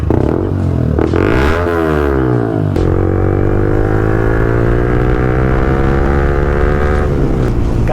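Yamaha R15 V3 motorcycle fitted with an Akrapovic full exhaust system, close and loud, holding a steady throaty idle broken by rising and falling throttle blips that sweep the engine note up and back down.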